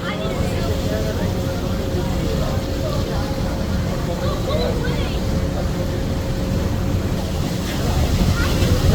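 Steady noise from the open water of the Thames on a river boat in London, with crowd murmur and wind rumbling evenly for nine seconds and rising slightly near the end.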